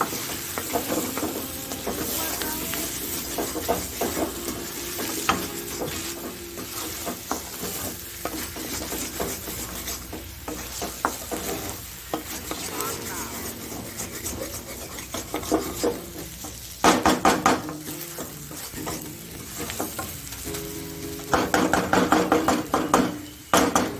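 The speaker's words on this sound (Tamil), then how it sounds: "இப்போ இதை நல்லா ஃப்ரை பண்ணலாம்." Ginger potatoes frying in a pan, with a steady sizzle and repeated scraping, stirring strokes running through the whole stretch and a few louder bursts of stirring near the end.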